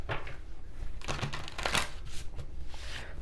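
Tarot cards from a Light Seer's deck are shuffled in a few quick riffling bursts, close by, with soft papery rustles and flicks between them and no talking.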